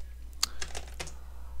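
A few quick, light computer keyboard keystrokes close by, entering a search in a Linux desktop, over a low steady hum.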